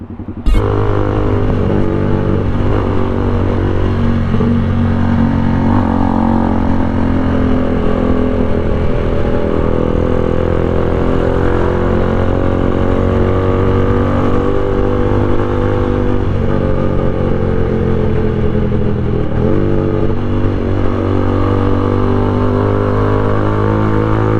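Loud aftermarket motorcycle muffler, a canister-style exhaust, idling with a deep throbbing drone and repeated rev blips, close and sustained for the whole stretch with no talking.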